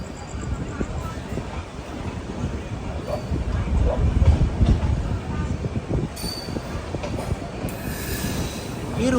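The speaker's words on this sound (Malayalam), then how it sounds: "11:05 വെരാവൽ റെയിൽവേ സ്റ്റേഷൻ ഇതാ ട്രെയിൻ എടുത്തിരിക്കുകയാണ്." A train pulls out of Veraval railway station on time, with a steady rumble of rolling wagons, rising wheel squeal and rail clatter close by throughout.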